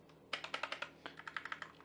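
Keys on a Blitzwolf BW-KB1 wireless mechanical RGB keyboard being pressed, about fifteen quick clicky keystrokes in two short bursts, close and fairly quiet with no talking.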